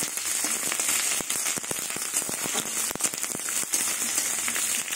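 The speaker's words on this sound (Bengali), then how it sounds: "এবার কুচনো পেঁয়াজটা দিয়ে দেবো।" Chopped onion frying in hot oil with whole cumin and a bay leaf, cooking for a mild chicken curry: a dense, steady sizzle with scattered sharp crackles and pops running throughout, close and fairly loud.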